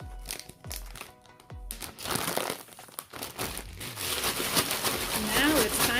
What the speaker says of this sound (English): Take your small Ziploc bag and place it into the big Ziploc bag.